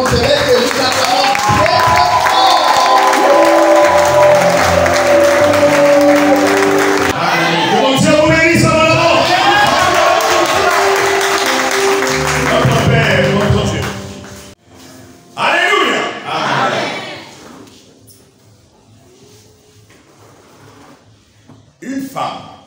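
An audience at a church ordination ceremony applauding and cheering, a loud sustained crowd roar with voices that fades into scattered sounds and talk.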